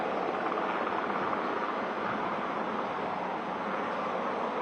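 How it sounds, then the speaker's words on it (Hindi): A Navy helicopter lifting Marine Commandos into the air during a Navy Day display at Sindhudurg's Rajkot fort, heard as a constant loud broadband rotor and engine roar with no breaks. "अब हेलीकॉप्टर ऊपर की तरफ उड़ान भर रहा है"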